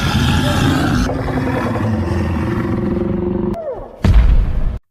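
A grenade detonates inside a creature's mouth, a loud, dense rumbling blast that roars continuously, briefly drops away, then returns in a second heavy burst before cutting off abruptly.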